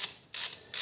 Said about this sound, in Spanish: con la 8 de Allen, tendremos que quitar el rodillo del tensor. La aflojamos a izquierda